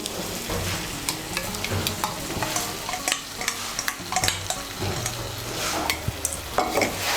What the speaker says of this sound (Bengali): টক দইটাকে মিশিয়ে নেব ভালো করে।